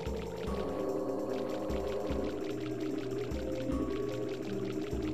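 Flowing water in a flooded basement in the video game Super Mario 64, a steady pouring rush running throughout beneath rhythmic background game music.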